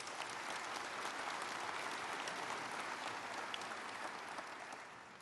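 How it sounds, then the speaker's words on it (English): A hall audience at a Conservative leadership hustings in Cheltenham gives a round of applause, a steady, fairly soft, continuous clapping that fades slightly at the end. "Give her a round of applause"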